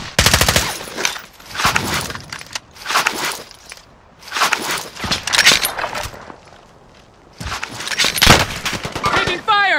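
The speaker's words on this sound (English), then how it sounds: "Taking fire!" Bursts of gunfire in the Call of Duty: Modern Warfare shooter: several loud, close volleys of rapid shots with short lulls in between, over battle noise and a radio-like voice.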